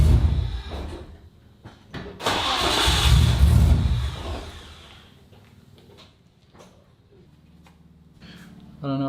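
Nissan Skyline engine starting: a starter cranks, then a rough surge of engine noise swells and fades, with nearby clunks and a voice speaking.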